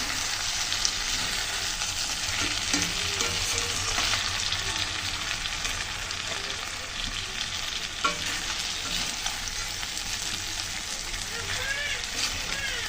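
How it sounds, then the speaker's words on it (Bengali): Tilapia pieces are stirred with spices in a frying pan under a continuous sizzle, with scraping and stirring strokes near the pan and a voice talking over it now and then. "মশলার সাথে হালকাভাবে একটু মাছগুলো মিশিয়ে নিলাম।"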